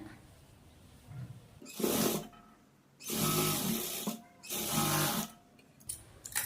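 A home sewing machine runs a quarter-inch stitch along a folded half-inch hem on a blouse, in three separate bursts of whirring, each a second or so long, fairly close, with quiet pauses between and no talk.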